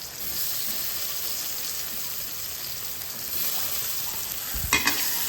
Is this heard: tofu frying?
yes